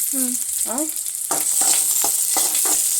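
Cumin seeds hit hot oil in a pan for ridge gourd peel chutney: a short tonal whine comes first, then a loud, bright sizzle with several crackling bursts.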